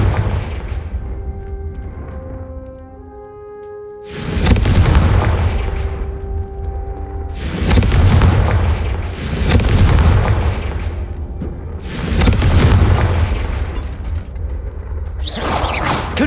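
Confringo blasting-spell explosions from Hogwarts Legacy: five loud, close booming blasts at uneven intervals over a low ambient rumble, each with a sharp onset and a rolling decay.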